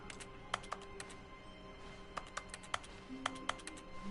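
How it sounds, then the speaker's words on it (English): Keyboard-like tapping from pressing X in The Stanley Parable video game: a dozen or so crisp, quick clicks at an uneven pace over a steady low room hum, with no voices. "I love that I can tap X like it sounds like a keyboard"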